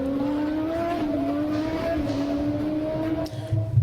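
A race car engine from F1 The Movie revving in a steady high-pitched whine that climbs slightly and holds, loud and sustained, with a rumble rising near the end.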